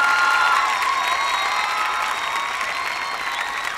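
Studio audience applauding on The Voice All Stars singing competition, loud sustained clapping and light cheering from a large crowd, steady throughout with faint tonal music lingering underneath.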